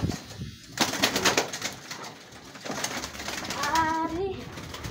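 A young fancier's pigeons, including Barless birds, let out a soft cooing call near the end amid rustling and handling noises, with scattered voices talking nearby.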